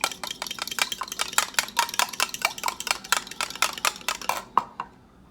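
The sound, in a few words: fork whisking two eggs in a bowl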